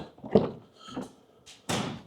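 A Tesla Model Y car door is opened and shut nearby: a few soft clunks and a latch click, then one solid closing thud near the end.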